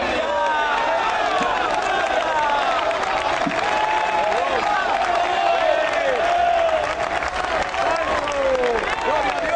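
Large crowd applauding and cheering at a political rally in Plaza de la Constitución, sustained dense clapping with raised voices and whistles throughout, loud and close.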